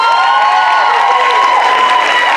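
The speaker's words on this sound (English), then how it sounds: "So can everyone please give a round of applause to all the choreos?" A crowd at an Indian student association's Jalsa 2022 show applauds the choreographers, a continuous wash of clapping and cheering over a held musical tone in a large hall.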